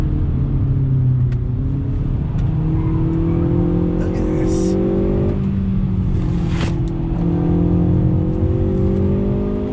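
A 2020 Hyundai Veloster Turbo hot hatch is driven hard, its engine droning and climbing steadily in pitch under load, heard from inside the cabin while a person speaks briefly over it.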